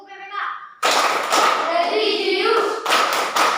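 A group of children performs the Tepuk PPK clap chant, with bursts of rhythmic, fairly loud hand clapping following a brief spoken lead-in.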